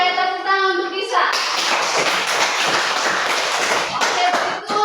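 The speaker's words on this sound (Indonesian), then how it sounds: "tepuk tangan untuk Kisah" Children in a classroom clapping their hands together in a lively round of applause, steady and close, after a brief spoken voice at the start.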